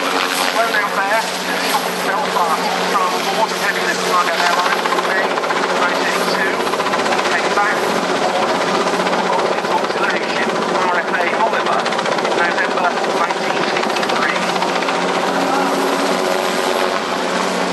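A Westland Wessex HU5 helicopter makes an opening flypast at Yeovilton, its loud continuous rotor thrum and turbine roar sustained and close throughout, with an announcer's voice faintly present.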